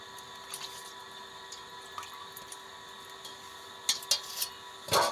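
Pieces of ash gourd, soaked in lime water, being rinsed in water, a soft, faint trickle with a few louder splashes near the end.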